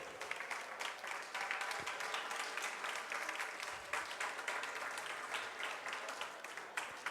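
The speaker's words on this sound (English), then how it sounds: "A big round of applause to Ole" A big round of applause from an audience at a foundation launch event, sustained even clapping for several seconds, moderately distant and fairly quiet, with faint voices underneath.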